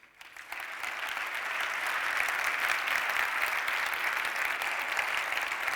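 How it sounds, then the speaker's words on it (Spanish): Audience applause at the T3chFest 2023 tech conference, honoring the organizers and volunteers; a dense, steady wash of clapping that swells within the first second and holds evenly at full strength throughout. "le dediquéis un aplauso ahora a la organización y a los voluntarios"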